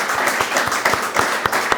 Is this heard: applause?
yes